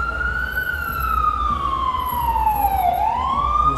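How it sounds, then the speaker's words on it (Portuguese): An Unimed ambulance arrives at a football match with its siren wailing loud and close, one long, continuous tone that glides steadily down and then swings back up. "Entra a ambulância da Unimed aos 2 minutos e meio do jogo."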